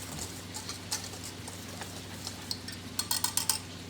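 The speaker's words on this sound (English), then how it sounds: "Stir it up." A fork stirs a lemon snowball mixture in a bowl, giving faint, quick, irregular clicks and scrapes against the sides that grow into a brisk burst of tapping toward the end.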